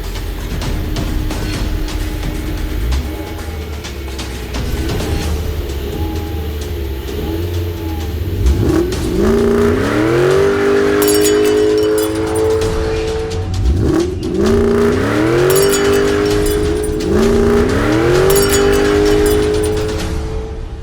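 A vintage Shelby GT500 Mustang accelerates hard off the line trackside, its engine note rising and sweeping upward through several loud gear pulls, close and dominant throughout.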